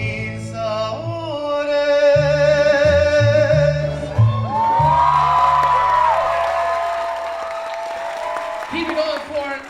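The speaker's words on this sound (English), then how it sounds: "The second it's over, the audience jumps in applause" Mariachi cumbia played by student performers ends with brassy harmonic tones, and an audience immediately bursts into loud, sustained clapping and cheering that fills the rest of the moment.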